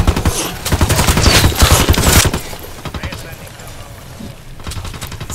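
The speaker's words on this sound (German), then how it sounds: "Na, die schießen auf mich." Rebels firing on the player in Ghost Recon Wildlands: dense, rapid volleys of close, loud gunfire for about two seconds, then thinning to scattered, quieter shots, with someone talking over the fighting.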